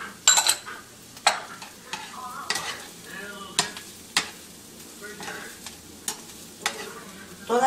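Broccoli and mixed vegetables with onion, garlic and eggplant sizzle in a frying pan, punctuated by repeated sharp scrapes and clacks of stirring every half second to second, close and fairly loud.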